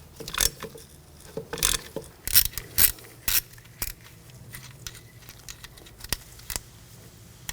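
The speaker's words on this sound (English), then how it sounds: "Use a 8mm socket. Take this nut off." A ratchet fitted with an 8mm socket loosens a nut on a 2000-2006 BMW X5 during rear control arm work. Short bursts of clicking come in uneven spurts with pauses between them, close and fairly quiet.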